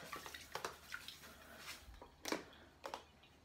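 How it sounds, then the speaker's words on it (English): Japanese Bathclin Pure Skin bath salts poured into bath water, heard as several close, irregular splashes and trickles with short pauses between them. "you pour it into your bath"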